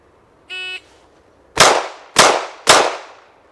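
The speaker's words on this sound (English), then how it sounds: "So now I'm going to have a little bit more precision with my shooting." A defensive handgun fitted with a red dot sight fires three sharp, loud shots in quick succession, each with a short echoing decay, after a brief electronic shot-timer beep.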